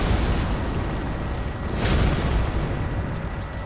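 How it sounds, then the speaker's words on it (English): Earth Shaker weapon art performed with a heavy cestus in Elden Ring: a deep, loud rumbling boom that holds throughout, with a second surge of impact midway before it fades slightly. "I'm using a heavy cestus with the weapon art Horolu Earth Shaker"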